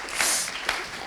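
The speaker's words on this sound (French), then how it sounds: "Je pense qu'on peut déjà les applaudir." Audience applause at a round-table discussion on the right to food, a short burst of clapping from a seated crowd with two slightly stronger swells, steady and moderately loud with no talk over it.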